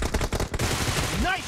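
Rapid automatic gunfire in the BGMI video game, a loud burst of shots followed by a ringing game effect.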